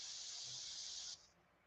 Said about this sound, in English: We're spraying through the mesh so that it kind of has a little bit of an uneven